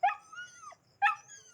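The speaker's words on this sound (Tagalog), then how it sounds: "Papakainin ko na yung mga aso dyan." Dogs on a small farm whimpering and yipping at feeding time, two high, whiny, close cries separated by a short pause, clear and without other sounds.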